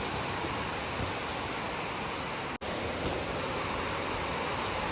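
Heavy, sudden rain pours down in a dense, steady roar with no voices, briefly cutting out for an instant midway before resuming just as loud.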